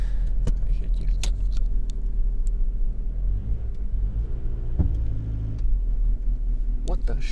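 The engine of a 1991 Honda Civic EF idles on choke after sitting in cold, wet weather, a steady low rumble close by with clicks and handling noises, while someone speaks over it.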